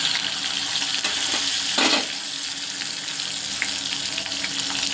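Mustard seeds and crushed garlic hit hot ghee for a mango rasam tempering, a steady loud crackling sizzle with a brief surge of spattering partway through, close by and with no talking.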